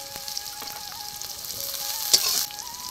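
Panch phoron (five-spice seeds) hitting hot oil, crackling and sizzling steadily close up, with a sharper burst of spitting near the end.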